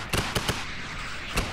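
Rocket launcher blasts in Fortnite crack out as a handful of sharp, punchy bursts, three close together at the start and one more a moment later, over a steady game background.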